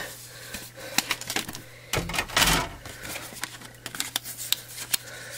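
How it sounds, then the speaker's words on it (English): Big Shot die-cutting machine cranks a top cutting mat through for a tunnel spinner card, close up, with a run of quick clicks and ratchety taps, a louder grinding surge in the middle, then more scattered clicks. "run that through my Big Shot"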